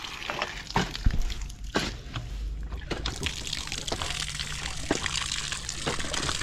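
Water gushing hard and steadily from a hand-pump well, a continuous splashing pour with a few louder sloshes, fairly close, with no talking.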